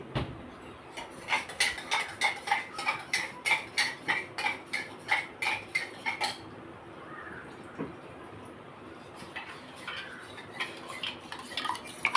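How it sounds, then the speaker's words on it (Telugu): A spoon stirs curd into ragi porridge in a vessel, giving a quick, steady run of close metallic clinks for about six seconds before they thin out into softer, scattered taps. "రాగి జావలో కొంచెం మనం ఇలాగ పెరుగు కలుపుకొని వేసుకుందాం"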